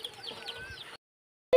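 Chicken chicks in a village yard during heavy rain give a few high, thin peeps and chirps over a soft wet background, followed by a brief silence and then one last sharp chirp close by.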